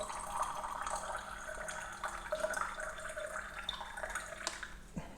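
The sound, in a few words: water being poured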